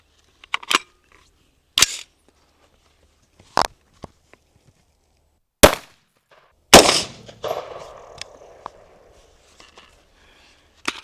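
5.56 FMJ rounds are fired into a target of corn, producing several sharp, isolated cracks spaced a second or two apart, with the loudest report followed by a short rattling spray and faint trailing patter.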